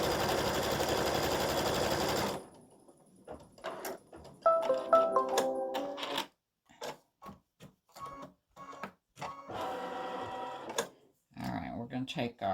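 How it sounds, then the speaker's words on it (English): An embroidery machine stitches fabric held in a small 4x4 hoop, a steady dense mechanical buzz at first, then broken into rhythmic bursts of clattering needle strokes with brief pauses between them, close and fairly loud. "the machine is going to stitch a 1/4 inch away from the left side of the fabric"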